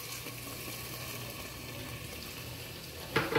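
Marinade wine poured into a hot pot for beef bourguignon, giving a steady, even sizzle and hiss that holds throughout, ending with a short clatter as a utensil knocks the pot; no one speaks.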